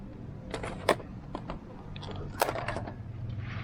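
Someone eats takoyaki and a fried pork bento from a Grubhub delivery, with close, crisp bites and crunching chewing in a few irregular bursts and no talking.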